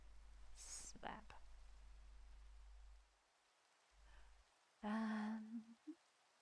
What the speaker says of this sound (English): Hello, Minecraft rain.